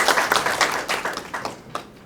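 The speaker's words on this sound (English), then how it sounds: "Give us a round of applause" An audience at a debate competition applauds with loose, uneven clapping that gradually thins out, a fairly close patter of hands fading toward the end.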